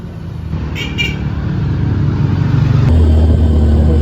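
Motorcycles climb a steep road with loud, close, continuous engine drone that rises in strength as one engine revs harder near the end.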